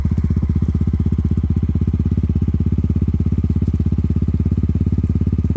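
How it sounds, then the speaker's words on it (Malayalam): A Mahindra Mojo motorcycle's exhaust note, a steady close idle with an even, rapid pulsing thump that holds at one pace throughout, with no speech. "ഇതിൻ്റെ എക്സോസ്റ്റ് നോട്ട് കൊണ്ട് ഞാൻ കേൾപ്പിച്ച് തരാം."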